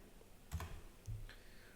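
A few quiet keystrokes on a computer keyboard while a search is typed, two soft clusters of clicks separated by a pause against low background hiss.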